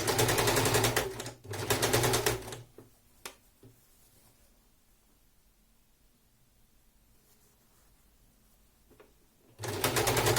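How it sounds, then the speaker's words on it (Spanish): A sewing machine stitches a kimono seam along the edge of the presser foot, running in loud, fast, steady bursts at the start and again at the end, with a quiet pause between. "Por eso estoy cosiendo al canto del prensatelas."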